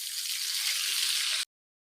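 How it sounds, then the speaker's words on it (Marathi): Water is poured into a hot oil tempering for khaman dhokla, making a steady rushing hiss that stops abruptly after about a second and a half. "आता याच्यात पाणी पण टाकणार आहे आपण."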